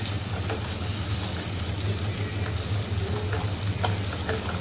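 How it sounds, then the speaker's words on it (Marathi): Cluster beans and onion stir-frying in a pan, a dense steady sizzle like light rain with faint occasional scrapes of a spatula, close and continuous with no talking. "व्यवस्थित परतून घेऊया."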